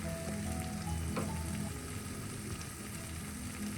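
Onions sautéing in a pan for a Kerala-style mackerel fish curry, a steady close sizzle and crackle running throughout with faint clinks and scrapes of stirring mixed in.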